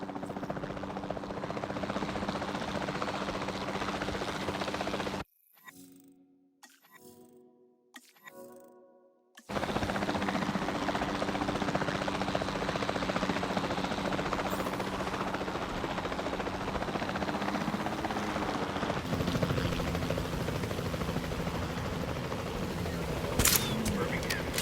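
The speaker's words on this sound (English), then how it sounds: "Then the sensible thing is to take a capture team helicopter." A capture team helicopter in Jurassic World Evolution 2 drones steadily with a low engine hum and rotor noise. It drops out briefly near the start, then returns loud and continuous, with faint clicks over it.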